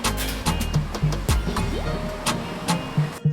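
A stainless steel tub dough kneading and mixing machine that can turn in both directions runs with a low motor rumble, broken by irregular clunks and knocks, and no one speaks.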